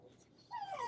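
A puppy whimpers at a door, a brief high, wavering whine that rises into a louder cry after a quiet start, close by with no talking.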